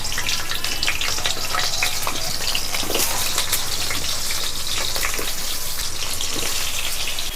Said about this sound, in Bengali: ভালো করে নাড়াচাড়া করে এর মধ্যে ভালো করে ভেজে নেবো আলুগুলো